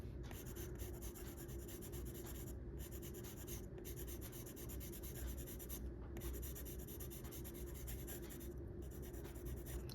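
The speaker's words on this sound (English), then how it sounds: "This is also a good way to sharpen your colored pencil because I'm just using the same edge to do this shading" Colored pencil shades on paper, a close, continuous scratchy rubbing with steady strokes and a few brief pauses as the pencil lifts, heard alone.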